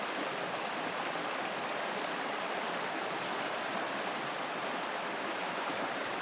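A fast-flowing river in Dovedale in the Peak District rushes in a steady, broad, hissing wash of water, loud and unbroken throughout with no other sounds.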